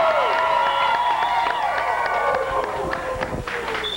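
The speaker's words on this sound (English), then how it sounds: "All right, big round of applause." A crowd at Casey James's American Idol Season 9 homecoming in Dallas claps and cheers steadily throughout, a dense wash of applause with shouts and whoops mixed in.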